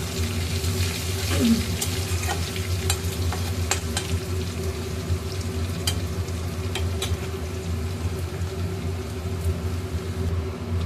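Continuous sizzling of a generous amount of garlic frying in oil, steady and close, with occasional clicks and scrapes of stirring and a low background hum.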